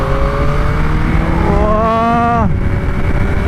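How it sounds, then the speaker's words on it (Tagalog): Yamaha MT-09 motorcycle engine revving hard under acceleration, a loud close roar with harmonics climbing in pitch for about a second before the throttle cuts, over steady wind and road noise. "Grabe talaga ang power ng motor na ito."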